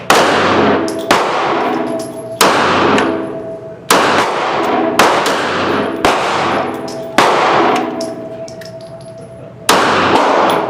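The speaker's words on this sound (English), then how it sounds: "next up, we'll be shooting the Maxi-Mag Plus V 30 grain hollow points" Kel Tec PMR-30 pistol firing Maxi-Mag 30 grain hollow point rounds outdoors, eight loud, sharp cracks spaced about a second or more apart, each with a short ringing decay, close and alone.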